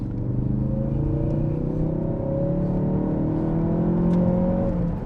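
A Ford Focus RS with 20,000 miles accelerates hard, its engine note climbing steadily in pitch through a gear for about five seconds. The drone is loud and close, heard from inside the car, with no talking.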